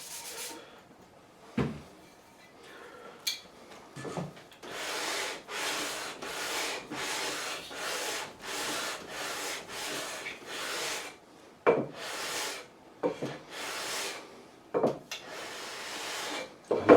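Frets on a Gibson SG guitar being sanded with 240 grit sandpaper during a refret: rhythmic back-and-forth rubbing strokes in close, even bursts, with a few clicks and knocks between them.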